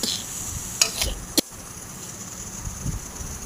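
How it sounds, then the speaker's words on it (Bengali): Boiled peas cooked with spices and mutton fat for ghugni sizzle quietly in a pan while being stirred, with a few sharp utensil scrapes and clinks near the start. "মাটন ফ্যাটটা দিয়েও ভালো করে একটু কষাতে হবে।"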